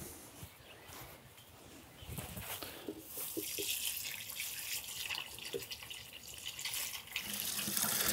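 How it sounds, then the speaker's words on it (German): Tomato plants are watered generously at the roots with a pungent liquid fertilizer, a continuous close pouring splash that grows louder toward the end, with no talk. "Und damit gießt man die Tomaten jetzt einfach reichlich."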